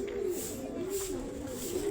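A racing pigeon gives a low, soft cooing call, a couple of repeated throaty phrases heard close by against a light background hiss.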